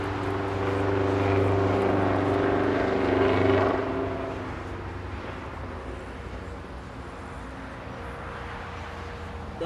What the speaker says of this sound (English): This one's a 757-200.